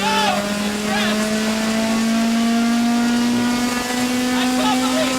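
Heard from inside the cabin, the vintage Datsun BRE 510 race car engine revs up in one long, smooth, loud climb, with faint voice fragments over it.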